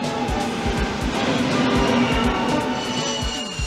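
A train rumbles past close by, wheels clacking over rail joints in a steady rhythm, with a low droning hum throughout.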